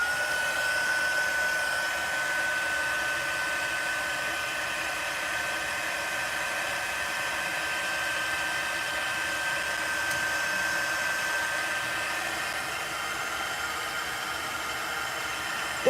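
A hair dryer-style drying tool blows on mixed media art tags, giving a steady, even whir that holds unchanged for the whole stretch at moderate loudness, with no talking.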